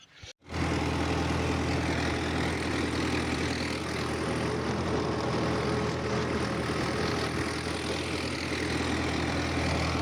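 A tractor engine drones as it pulls a harrow across a field, a loud, steady low rumble that settles in after a brief start and holds unchanged, with no other sounds.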